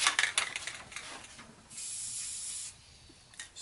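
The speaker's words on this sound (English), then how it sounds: "So I'm going to use spray paint." Black spray paint hisses from an aerosol can onto a blaster prop in several short, close bursts, with brief pauses and one longer steady spray.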